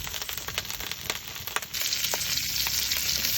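Garlic and onion sizzle steadily while frying in rendered fat in a traditional clay pot, with a close, continuous crackling hiss and occasional stirring bumps, no talking.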